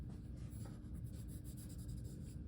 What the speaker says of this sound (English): I like to do like little circles to try and get rid of any streaks that my pencil, or inconsistencies that my pencil laid down